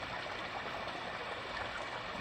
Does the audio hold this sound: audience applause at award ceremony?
no